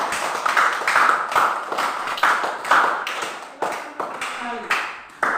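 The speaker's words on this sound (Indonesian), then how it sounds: "silakan kasih tepuk tangan dulu untuk kelompok" A small classroom group claps in applause for a student group, moderately close hand claps in uneven bursts with a few gaps, lively and fairly loud.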